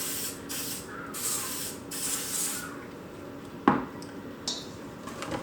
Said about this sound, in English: It says you're supposed to butter them, but I'm gonna cooking spray them today.